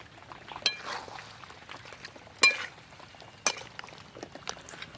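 A spatula clatters a few sharp times in a pan while a country chicken curry is stirred and sautéed, under a soft low sizzle.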